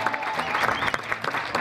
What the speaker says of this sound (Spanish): ¡El aplauso!